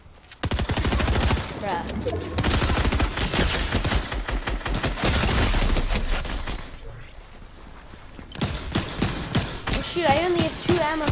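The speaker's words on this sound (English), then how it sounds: "Who is shooting at me?" Rapid gunfire bursts in Fortnite, dense cracking shots filling most of the stretch, with a player's voice exclaiming briefly near the end.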